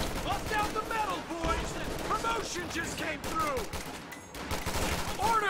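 Rifle fire from riflemen in a Company of Heroes 2 battle against Panzergrenadiers rattles in rapid, overlapping bursts and sharp cracks, dense and continuous through the clip alongside game effects and commentary.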